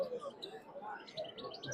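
Exotic caged birds at an outdoor bird market give quick, faint chirps and tweets, repeated in scattered bursts with soft voices murmuring underneath.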